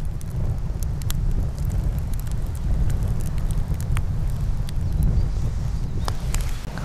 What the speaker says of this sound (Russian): Пламя высокое поднимается, горит с гулом.